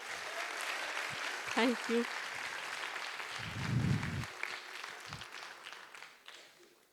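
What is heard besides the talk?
audience applause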